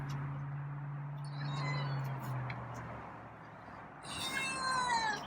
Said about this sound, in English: Oh, there's a louder meow.